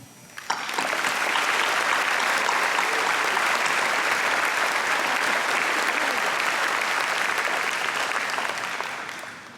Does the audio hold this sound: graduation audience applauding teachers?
yes